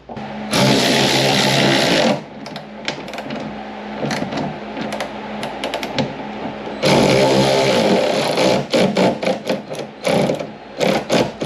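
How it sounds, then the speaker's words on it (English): A power tool drives T30 bolts on a 2021 Jeep Gladiator third brake light, with loud sustained whirring runs broken by short bursts and quick stop-start pulses, close up. "T30 bolt here, and I will go ahead and get those tightened down."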